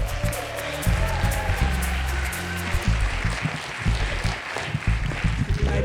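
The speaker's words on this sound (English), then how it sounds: "Big round of applause." Audience applauding a storyteller at a live storytelling show, steady clapping with some crowd noise and music-like tones underneath throughout.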